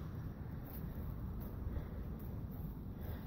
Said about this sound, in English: It's a real windy day